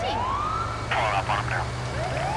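A video game police siren on a school bus wails, sweeping up and down with a sharp yelping burst in the middle, loud and close over a low engine hum.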